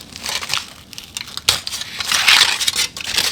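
Peeled aluminum heat tape being pulled off an ATV, a close, loud run of crinkling and crackling foil with sharp tearing bursts and no talk.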